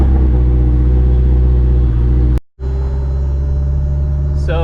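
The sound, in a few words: car driving with the windows down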